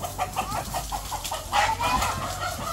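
A chicken clucks in a run of short, agitated calls while being caught, close and fairly loud against a noisy background.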